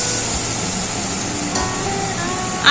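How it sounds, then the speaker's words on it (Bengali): Fried potatoes go into a pan of cooked-down spiced masala for a Bengali potato curry, with a steady loud sizzle and a couple of brief scraping stirs partway through. "এবার ভেজে রাখা আলুগুলো দিয়ে দিচ্ছি।"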